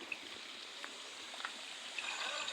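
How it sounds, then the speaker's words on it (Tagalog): Soft trickling and flowing water from a small natural spring beside a cottage resort, faint and steady with a few brief splashy accents, no talking. "May tubig siya din. May bukal oh."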